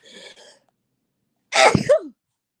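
A brief murmured voice, then a pause, followed by a single loud, close sneeze with a sharp burst and trailing exhale.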